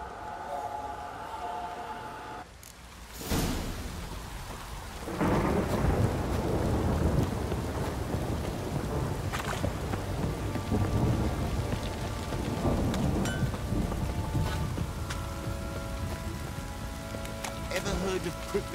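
Steady heavy rain pours throughout in The Witcher 3: Wild Hunt, with a rumble of thunder rolling in, the downpour swelling louder after a few seconds and staying dense.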